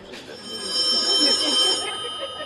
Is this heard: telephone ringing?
yes